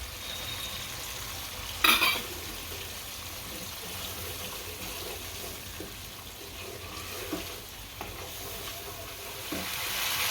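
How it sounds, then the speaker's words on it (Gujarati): Chili gravy cooking in a pan for a peanut bhajiya curry, giving a steady low sizzle and bubbling with one brief louder clatter near the start and faint utensil sounds later. "આ મરચાંની ગ્રેવી નાખશું"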